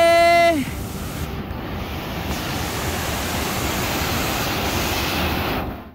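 A fast-flowing river runs over slippery rocks at a scenic hidden spot, making a dense, steady rushing roar close by that fills the whole clip after a brief voice at the start.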